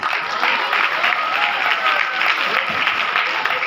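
Dense, steady applause from a theatre audience for a stage play performer at a Mughal-e-Azam production, loud and sustained for a few seconds without pause.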